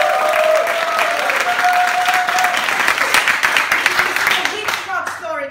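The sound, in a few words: audience applause to vote for the Woody Allen story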